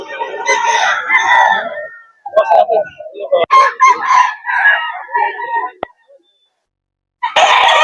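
Young gamecock stags crow loudly and close at a farm breeder's sale in Bocaue, several overlapping calls and clucks following one another, with someone talking among them.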